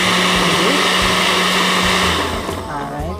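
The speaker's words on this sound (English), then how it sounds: "put it in the blender with some water or the same coconut water and just blend them" A blender whirs loudly and steadily as it purées chopped coconut with water for homemade coconut milk, the motor tone easing slightly toward the end.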